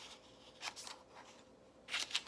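Scissors snip through paper around a garlic picture cut for an analog collage, a few quiet crisp cuts spaced apart with two slightly louder snips near the end.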